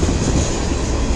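A CN freight train rolls past in Emmett, Michigan, with a brown tanker car going by. The loud, close, continuous rumble and wheel noise fill the whole moment.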